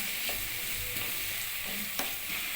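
Onions sauté in a pan toward golden brown, a steady dense sizzle with soft periodic stirring scrapes underneath, close and continuous without speech.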